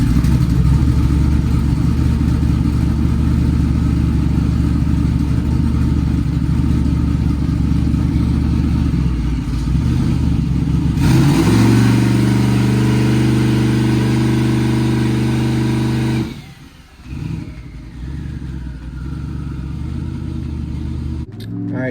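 Turbocharged car engine with nitrous holding against a two-step rev limiter, a loud steady rasping drone that swells into a harder, tonal roar before cutting off abruptly and falling back to a rougher idle.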